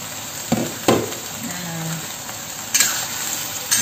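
Sweet potato leaves sizzle and hiss as they are stir-fried in a pan, with a few sharp scraping stirs and clatters of the utensil against the pan over a steady frying background.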